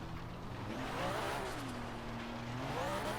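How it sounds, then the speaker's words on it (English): A Nissan Fairlady Z with a wide-body drift build revs steadily in Forza Horizon 3, its engine tone rising and falling as the car slides, with faint tire noise and no voices. "let's do some little interior drifting first of all"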